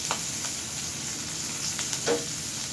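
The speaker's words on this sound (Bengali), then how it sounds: "পেঁয়াজ আর ক্যাপসিকামটা ভালো করে ভেজে নেব" Sliced onion and capsicum sizzle steadily in hot oil left over from frying baby corn for chilli baby corn, with a few scraping stirs of a spatula breaking through the constant crackle.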